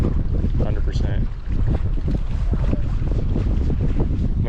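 Strong wind roaring over the microphone outdoors beside railroad tracks while fishing, a constant loud buffeting rush that barely eases for the whole stretch, no voice heard.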